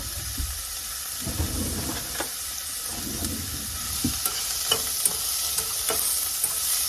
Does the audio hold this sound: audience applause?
no